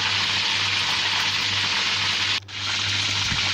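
A whole chicken deep frying Hong Kong style in hot oil, giving a steady, loud, close sizzle and crackle throughout, with a brief dip partway before the bubbling resumes.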